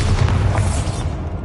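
Bombarda spell blast in Hogwarts Legacy, a loud deep rumbling explosion that fills the whole moment and slowly fades.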